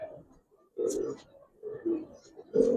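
Giribaz coloring pigeons cooing in a loft, a few soft low coos in short bursts separated by brief gaps, fairly close and quiet.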